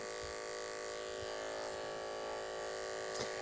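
Electric hair clippers cut hair during a faded side-part haircut, giving a steady, close, continuous motor buzz with slight shifts as the blade moves through the hair.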